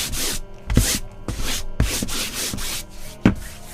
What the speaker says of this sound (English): I'm just going to do a quick sanding with 220.